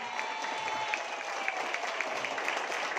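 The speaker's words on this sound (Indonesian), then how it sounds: "Tepuk tangan buat beliau berdua." Audience applause at a marketing plan presentation, a steady wash of many hands clapping throughout, moderately loud and continuous with no talk over it.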